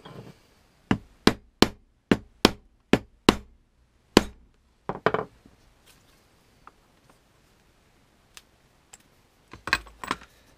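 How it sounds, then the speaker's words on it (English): Hole punch striking a leather hatchet sheath before a rivet goes in: a quick series of about eight sharp, evenly spaced taps up close, a few scattered softer knocks, then two more sharp hits at the end, with no talking. "I'm going to go ahead and punch a hole."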